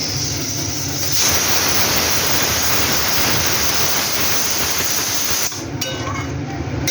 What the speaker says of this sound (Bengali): এবার আমি মাপ মতন একটু জল দিয়ে দেব